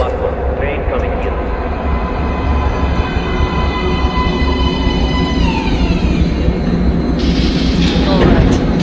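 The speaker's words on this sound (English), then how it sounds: "Please step away from the edge of the platform. Train coming in." Subway train pulling into a platform in the post-apocalyptic game Metro: Last Light, a steady loud rolling rumble with rising whine and brake squeal, under voices speaking throughout.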